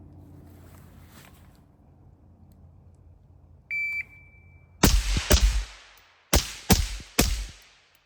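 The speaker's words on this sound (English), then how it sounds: "that shot timer" A shot timer gives one short, sharp electronic beep at a shooting range, followed a second later by two quick bursts of loud, close gunshots, with a brief gap between them.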